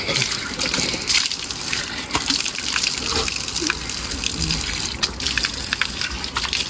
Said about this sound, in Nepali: लोकल धारो है लोकल धारो